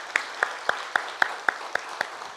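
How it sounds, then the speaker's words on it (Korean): Eight evenly spaced sharp claps, moderately close, with faint background noise and no voices, more like a single person's rhythmic clapping than a full crowd, at a church service thanking the choir. "모든 찬양대원들에게 한번 다시 뜨거운 감사 박수 한번 올리겠습니다."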